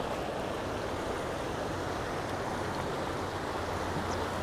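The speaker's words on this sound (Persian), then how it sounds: "اومدیم کنار رودخونه حبل رود" Steady broadband rush of the Hablerud River flowing near Bonkuh village, north of Garmsar, Semnan Province, Iran; continuous and fairly loud, with a low rumble underneath and no voices.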